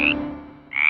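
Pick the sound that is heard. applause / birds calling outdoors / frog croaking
frog croaking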